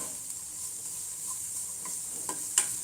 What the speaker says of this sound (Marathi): आपण इथे शिमला मिरची आणि कांदा फ्राय करत आहे